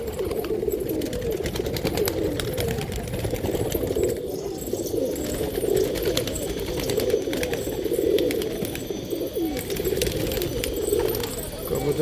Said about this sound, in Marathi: आंध्रामधून आणलेले कबूतर